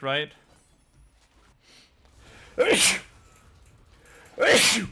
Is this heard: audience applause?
no